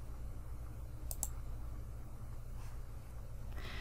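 A computer mouse clicks a check-mark button to approve a personalized page design, giving two quick, sharp clicks close together over a steady low background hum, then a fainter click later.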